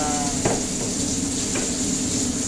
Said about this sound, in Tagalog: Haluin lang po natin yan.